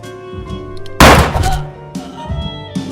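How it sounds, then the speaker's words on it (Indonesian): Gunshot in an Indonesian psychopath film, a single sharp, loud bang about a second in that decays quickly over a low background of film sound. "Bayu pun langsung menembak dia"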